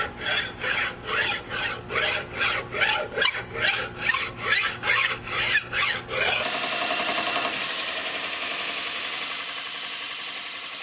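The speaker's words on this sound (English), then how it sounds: "we're going to begin filing on this side right now" A hand file rasps across a metal drive shaft in about a dozen steady back-and-forth strokes, and then a loud, continuous machine hiss takes over.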